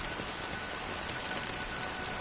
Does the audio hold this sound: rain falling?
yes